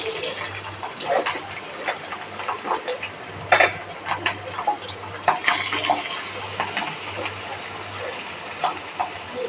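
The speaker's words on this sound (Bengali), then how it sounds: "তেলটা আমার গরম হয়ে গেছে, এবার আমি গুগলিটা ভেজে নেব।" Snails (googli) fry in hot oil in a wok with a continuous sizzling hiss and scattered crackling pops, close by, under a faint low hum.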